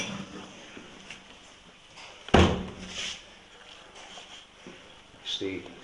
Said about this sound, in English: That's the passage from the other end, the big fire exit door.